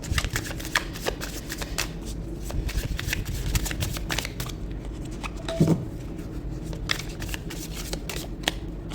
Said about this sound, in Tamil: இப்போ ஷஃபிள் பண்ணிக்கலாம்